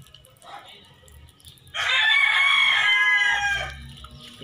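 A crossbred rooster crows once, loud and close, a single long drawn-out call standing out from quiet farmyard background sounds.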